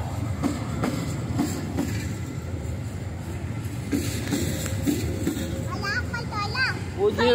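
Train wheels clatter over the rails in a steady rolling rumble with rhythmic clicks and a rising metallic squeal near the end, while people, including a child, talk throughout.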